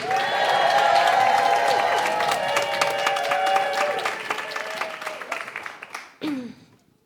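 An audience at a poetry slam claps and cheers loudly to welcome a poet to the stage, a dense wash of applause with whoops that slowly thins out over several seconds before a final burst and fade.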